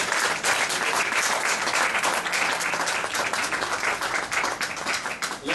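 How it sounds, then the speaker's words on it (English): An audience at a hospital children's learning-center renovation event gives a steady, full round of applause, dense clapping from many hands that continues without talk for several seconds. "a big round of applause"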